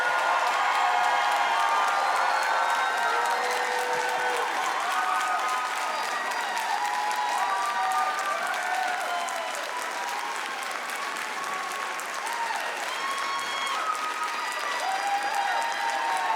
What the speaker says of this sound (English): How about our applause to Tanner,